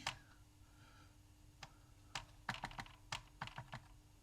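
Keys tapped on a Cambridge Computer Z88 portable computer's rubber keyboard, a few scattered soft clicks followed by a quicker irregular run of presses, close and quiet with no talking.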